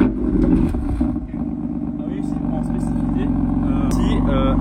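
A BMW M4 F82 Competition with 450 hp from the factory and an M Performance exhaust line holds a deep, steady rumble at low revs. The sound stays loud and close throughout, with a voice faintly present.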